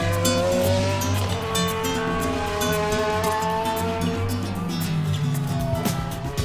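A Ferrari-powered A1GP prototype race car, driven by a test driver, runs on track with a loud, steady engine note that climbs and shifts pitch across the whole stretch, accompanied by tire noise and no talk.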